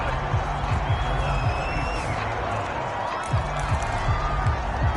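Stadium crowd in an American football video game featuring Baltimore, a loud continuous cheering roar with rhythmic low thumps, sustained throughout under no distinct talk.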